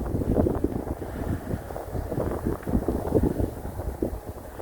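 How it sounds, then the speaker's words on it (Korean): Strong gusty wind buffeting the microphone at a farm plot at the foot of a mountain, a loud continuous low roar that swells and dips, with no talk. "오늘요 바람이 너무 불어요 너무 불어서 제가 지금 좀 춥거든요"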